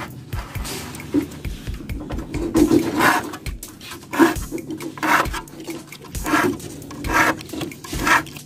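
A hand file sharpening the teeth of a wood saw, rasping in repeated steady strokes about once a second, loud and close with a gritty metallic scrape on each pass and short pauses between strokes.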